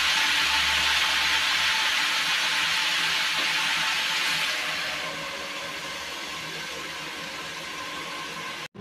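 Boal fish frying in oil in a pan, a broad hissing sizzle that is loud and close at first, then eases to a quieter steady fry before cutting off abruptly.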